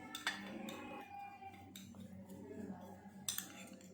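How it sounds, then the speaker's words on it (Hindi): A spoon stirs spice masala into lemon juice in a bowl for stuffing green chillies, giving quiet, irregular metallic clinks and scrapes against the dish, heard close and faint with no voices. "अब हम इस लेमन जूस में ये मसाला डालेंगे और इसे अच्छी तरह से मिक्स करेंगे।"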